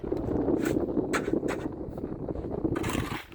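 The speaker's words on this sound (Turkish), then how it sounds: "Yukarı çıktıkça biraz daha rüzgar sanki çok esiyor." Strong wind gusting outdoors in a garden while concrete is poured for fence posts, a steady rushing roar buffeting the microphone, with faint scraping and brief crackles near the end.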